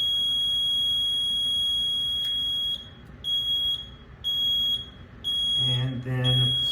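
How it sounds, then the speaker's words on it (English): Fire alarm panel sounding after a pull station was activated: a steady, high electronic alarm tone runs under low room noise, then cuts in and out in repeated pulses, with a voice briefly talking near the end. "back at the panel, you can see, or hear, that it's an alarm. It also shows on the display pull station"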